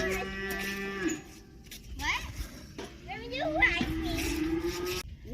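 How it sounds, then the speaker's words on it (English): Bottle-fed calves on a farm moo and holler repeatedly, several drawn-out calls close by, with a person talking over them. "One downside to bottle feeding calves is whenever you are outside, they start hollering for you because they remember"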